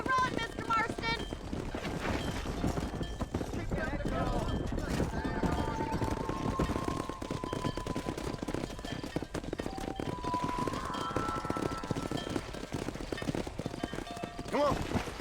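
In the Red Dead Redemption video game, a horse's hooves clip-clop steadily while cattle are herded, with a continuous rhythmic trot and game sounds around it. A voice speaks over the hoofbeats.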